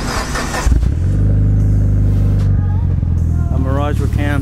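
Mitsubishi Mirage rally car with cams at a car meet, its engine firing up and then holding a loud, throaty idle with rising revs, close by, and people talking over it at the start and end.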